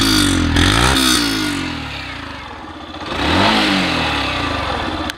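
A 2021 Yamaha FZ-X motorcycle's exhaust note revs close by, climbing and falling in two or three throttle blips over a steady idle, with no talk.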